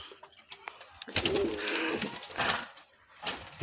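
King pigeons coo in their loft, where a breeding pair sits on eggs; low rolling coos repeat close by amid rustling and scattered bird noises, with no talk.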